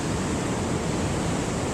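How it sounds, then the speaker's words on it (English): Big ocean waves crash continuously at Laguna Beach, a loud, dense roar of surf filling the air without pause and with no voices over it. "look at these waves. They're fantastic. Crashing in."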